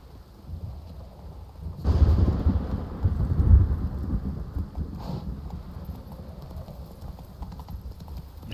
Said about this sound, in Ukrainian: Гримить страшно, вирубай.